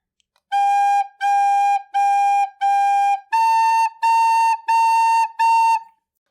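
A recorder plays measures 5 and 6 of Hot Cross Buns, eight clean, evenly spaced sustained notes, four on one pitch then four a step higher, close and clear with no voices.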